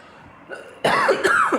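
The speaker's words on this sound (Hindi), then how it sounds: "sorry थोड़ी खांसी है।" A man coughs and clears his throat, two short rough bursts that come close and loud after a quiet pause.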